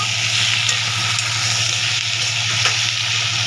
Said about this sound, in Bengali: এবারে আমি ভালো করে কষাবো